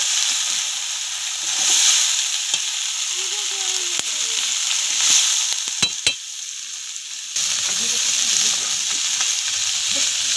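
A pan of morola fish curry sizzles steadily as tomatoes go in and are stirred, with loud continuous frying hiss, brief scraping and clinking knocks from the stirring, and a renewed surge of sizzle near the end.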